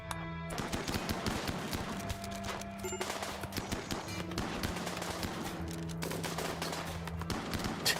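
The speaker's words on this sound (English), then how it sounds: "Did you just literally LMG nothing but me?" Light machine gun fire in the video game Rimworld, rapid dense bursts crackling almost continuously throughout, mixed with other gunfire and game sounds at steady moderate loudness.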